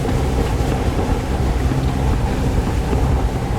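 Water rushes steadily through a narrow, deep canyon along a rough Iranian mountain track, a loud, unbroken broadband wash with gusty, wind-like texture and no voices.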